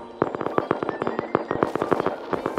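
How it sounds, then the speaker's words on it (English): Rapid gunfire from the Rust video game crackles in dense, irregular bursts of sharp shots, some loud and others more distant, over a steady background. "That's a lot of gunshots."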